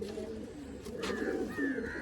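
Pigeons of fancy breeds coo softly in a short, close burst of low, throaty calls, one or two overlapping, with faint chirps and room noise behind them.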